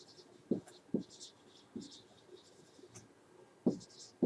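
A lecturer writing on a board during an accounting lecture, faint and nearby: soft scratchy strokes with a handful of firmer taps, spaced irregularly, with no talking.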